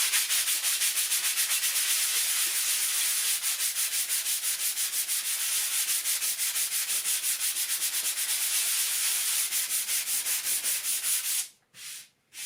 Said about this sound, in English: I'm using this sanding block just so we can keep the surface completely smooth.